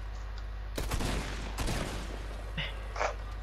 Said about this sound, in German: Schüsse! Bei mir!